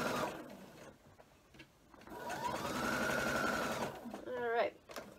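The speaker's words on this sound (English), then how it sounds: "you can stitch it down with a shorter stitch." A sewing machine runs steadily for a couple of seconds, stitching 60-degree triangle wedge pieces of a mini quilt with a short stitch, between quieter handling noises and brief voice sounds.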